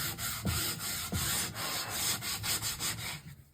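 Sandpaper rubbed by hand over a wooden table on a hot day, a steady close scratching with rhythmic back-and-forth strokes and a few soft knocks, no talking.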